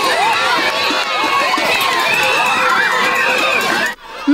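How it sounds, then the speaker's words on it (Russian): Spectators at a kindergarten winter sports festival cheer and shout nonstop during a children's relay race, a dense, loud crowd roar of high children's voices that cuts off abruptly near the end. "Во время прохождения эстафеты спортивная площадка гудела. Так активно поддерживали команды болельщики."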